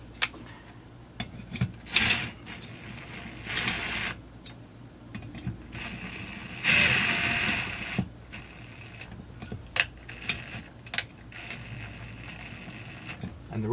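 Bolts being screwed down by hand tool on a Husqvarna 346XP chainsaw during a rebuild, a series of close, sharp ratcheting clicks and metallic squeaks in short bursts with pauses between.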